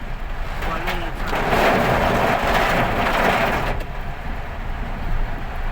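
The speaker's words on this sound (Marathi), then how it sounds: "एवढा पाऊस चालू आहे ना" Heavy monsoon rain at Mhalshej Ghat, a dense continuous wash of falling water drumming close and loud throughout, with a low rumble beneath that suggests a vehicle.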